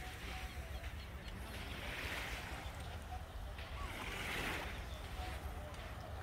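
Black Sea waves wash in and out at the shore, two soft swells of surf over a constant roar of wind and water.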